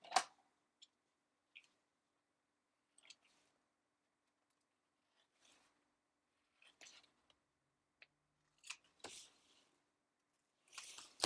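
Scissors cutting glued mixed-media paper tags, a sparse series of faint snips and crisp paper rustles with quiet gaps between them and no talk.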